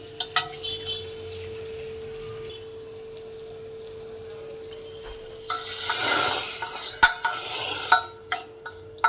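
Spices and kalai dropped into hot oil for tempering, a sudden loud sizzle that swells after a quiet stretch with a steady hum, followed by stirring scrapes and clatters.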